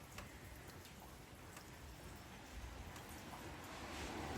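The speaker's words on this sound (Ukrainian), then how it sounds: "А дощик у нас все йде йде. Все капає, капає." Soft, steady patter of summer rain dripping in a garden with cherry trees, scattered drips, a continuous hiss that swells slightly toward the end, no voices.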